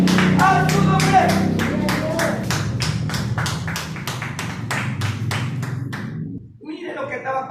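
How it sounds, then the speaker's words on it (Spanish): A church congregation claps in rhythm, steady regular claps throughout with voices and music underneath, fading near the end as speech resumes. "De un fuerte aplauso a Jesús"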